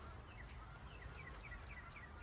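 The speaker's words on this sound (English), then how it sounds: "Maybe you can hear the geese that are flying around." Geese fly around in light rain, their faint, repeated honking calls sounding from a distance over a soft steady background of drizzle.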